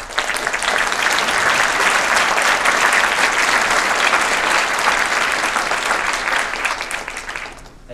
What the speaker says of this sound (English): Thank you for that spontaneous applause